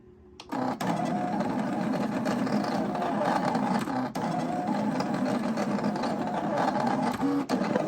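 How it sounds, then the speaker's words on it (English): Steady mechanical whirring and buzzing of a Silhouette Portrait 3 craft cutting machine, loud and continuous, with faint clicks and brief pitch shifts as it works. "one of the drawbacks of the silhouette portrait is that it is a little bit louder than the Cricut"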